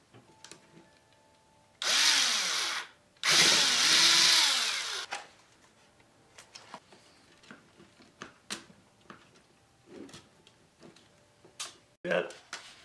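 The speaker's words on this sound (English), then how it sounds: "I'm going to drill a hole in the femoral head" A power drill bores into the femoral head of a bone in two loud, sustained whining bursts, then stops; a person talks in the pauses before and after.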